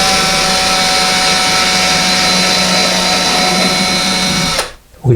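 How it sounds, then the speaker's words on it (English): A power drill bores through sheetrock into a wall stud while a Moen double robe hook is installed, a loud steady motor whine running continuously for over four seconds before stopping abruptly. "we're going to drill it just a little bit more, just so the screw can bite into the stud"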